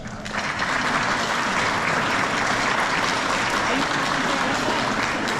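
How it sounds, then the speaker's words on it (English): Audience applause at a middle school band concert, a steady, dense roar of many hands clapping together for the students' parents, loud and sustained throughout with no pauses. "So kids, why don't we give your folks a round of applause?"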